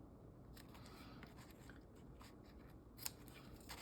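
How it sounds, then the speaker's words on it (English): A quick metallic snip of scissors trimming ribbon tails on a bow near the end, preceded by faint rustling and small clicks, close and fairly quiet. "you can trim your tails with the scissors"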